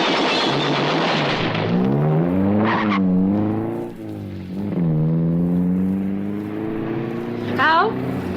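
A fast car roars and revs, then its tires squeal in long wailing skids, a loud close radio-drama effect with engine surges and a final sharp screech.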